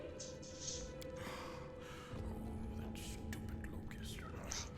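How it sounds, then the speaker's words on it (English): Labored breathing and muttering in the video game Pathfinder: Wrath of the Righteous, faint raspy breaths with low mumbled vocal sounds under background ambience and tones. "You hear labored breathing interspersed with disgruntled muttering."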